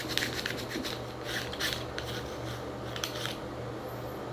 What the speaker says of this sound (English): Try to scrape off of as much as I can so I can run through the procedure